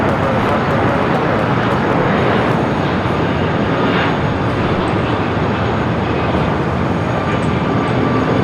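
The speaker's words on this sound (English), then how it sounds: "The 757 up next. It's the flight coming up from Boston, flight 318" A 26-year-old Boeing 757 arriving from Boston at LAX gives a loud, steady jet roar that holds constant, close and dense, throughout the whole stretch, with no speech over it.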